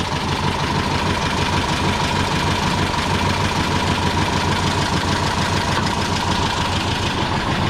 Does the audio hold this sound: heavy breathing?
no